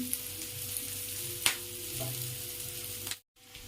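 Green chillies fry in a pan with a soft, continuous sizzle, a couple of small clinks of utensils, and a brief drop to near silence toward the end.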